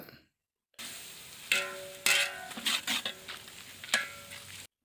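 Tomato masala for country chicken biryani being stirred in a pan, with a steady sizzle broken by several sharp scraping turns of the spoon, close and fairly loud, no voices.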